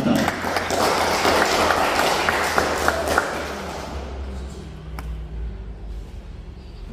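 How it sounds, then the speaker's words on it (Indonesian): A crowd gives the children of a primary-school scripture reading contest at Nela parish a short burst of applause, loud at first and then thinning into a low murmur of voices and scattered claps. "Kita tepuk tangan untuk para peserta."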